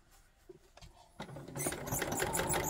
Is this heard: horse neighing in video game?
no